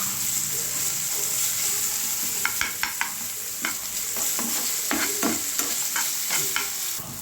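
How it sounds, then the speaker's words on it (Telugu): Thinly sliced onions sizzle steadily in hot oil in a pan while a spatula stirs and scrapes them in repeated, irregular strokes close up, with no voices. "దాన్ని మనం లైట్గా ఉప్పిస్తుంటే త్వరగా సన్నగా వేయాలి ఉల్లిపాయ."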